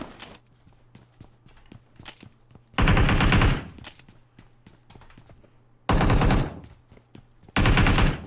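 Gunfire in a shooter video game comes in three loud, rapid automatic bursts. Between them, softer clicking footsteps and quiet background sounds fill the gaps.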